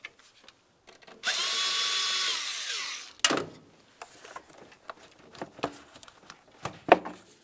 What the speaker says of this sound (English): Use an 8mm to loosen this clamp.